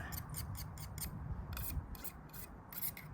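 A cheap soft-steel thrift store knife is drawn across a sharpener in quick, rhythmic rasping strokes, about a dozen passes with brief gaps, close and alone.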